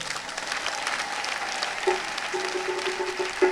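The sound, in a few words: church congregation applause and acclamation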